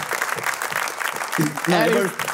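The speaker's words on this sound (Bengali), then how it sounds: "সবাইকে আবার জোরে তালি দাও" Live talk-show audience applause rises into a dense wash of clapping, with a speaking voice and loud amplified tones sounding over it toward the end.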